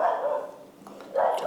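A dog barks in two short bursts, fairly close and moderately loud, with a quiet gap between them in an indoor home setting early in the morning.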